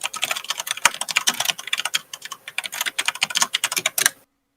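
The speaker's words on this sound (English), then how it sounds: "I'm hearing a lot of typing." Rapid, uneven clicking of keys on a computer keyboard during a tabletop game session, close and continuous for about four seconds before stopping.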